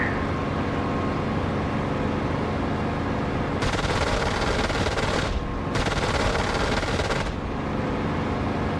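Rapid cannon fire from an F-16 in the DCS flight simulator, two sustained loud bursts of roughly two seconds each over a steady engine and cockpit drone.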